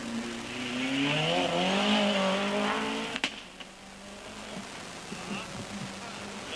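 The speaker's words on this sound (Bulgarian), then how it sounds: "вероятно чухте, че той кара до максимум обороти, т.е. до момента, в който те биват прекъснати" A Ford Escort rally car revs hard near the start of a 1994 rally stage at Albena Beach Resort, its engine climbing and bouncing off the rev limiter before a sharp cut, then fading into quieter open-air background.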